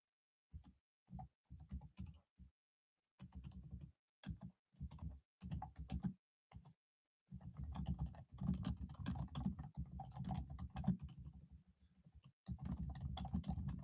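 Quiet typing on a computer keyboard comes in short bursts of rapid clicks with brief pauses, then in a longer continuous run, close and alone.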